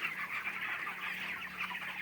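Steady, faint clucking from a flock of chickens on a village poultry farm, a continuous low murmur of hens at some distance with no talking over it.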